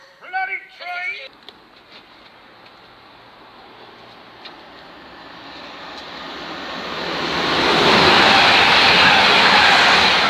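A train passes through Hitchin station, a low rumble swelling into a loud, broad roar that peaks near the end. A voice speaks briefly at the start before it builds.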